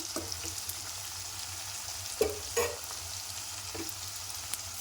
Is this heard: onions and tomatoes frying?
yes